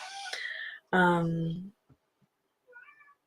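A house cat meows at close range, with two drawn-out meows, the second louder and longer, then a fainter chirping meow after a short pause.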